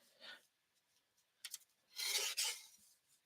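Paper being trimmed for a handmade card, with soft rasping cuts close by: a faint stroke, a quick double snip, then a longer scraping cut that stops briefly and continues.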